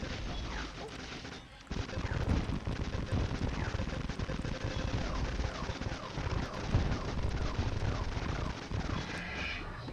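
Rifle fire in a video game comes in rapid, loud, dense bursts, mixed with crashing impacts and blasts that barely let up.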